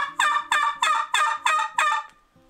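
A turkey tube call muffled with toilet paper gives six evenly spaced yelps in a quick rhythmic series, close and clear, then trails off, with no talk.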